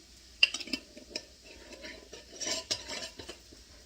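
Shrimp are flipped one by one in a skillet with butter, making a series of light metallic clinks and taps of a utensil against the pan, sparse and close with faint sizzle beneath.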